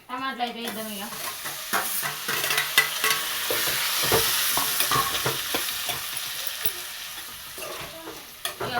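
Prawns with tomato frying in a village-style pan crackle loudly and sizzle while a spoon stirs and scrapes repeatedly; a brief voice-like tone is heard at the very start.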